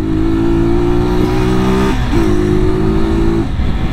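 A small used motorcycle with an acceleration problem holds a loud, steady engine drone while riding, dipping briefly near the middle before climbing again, close and continuous.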